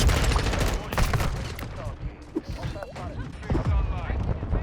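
Rapid bursts of M4 rifle fire in Modern Warfare, loud and close, with heavy recoil-paced automatic shots across the whole stretch, a voice talking over the gunfire.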